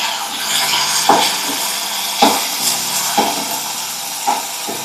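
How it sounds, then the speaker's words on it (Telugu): Fenugreek and coriander seeds frying in a pan for Telangana-style tomato pickle, a continuous close hiss and sizzle broken by four evenly spaced scraping stirs. "కొద్దిగా మెంతులు కొంచెం ధనియాలు వేసుకొని కలుపుకుందాం"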